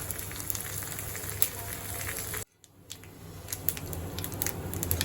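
Tempering spices, including two chillies, curry leaves and asafoetida, crackle and sizzle in hot oil, with sharp pops over a steady frying hiss and a brief drop in sound midway.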